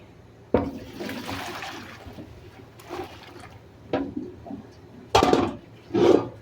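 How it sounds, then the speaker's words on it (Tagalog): Water is dumped out of a cooking pot in several separate splashing pours, each a sudden gush that fades, with brief quiet gaps between them. "Tapon na natin yung tubig."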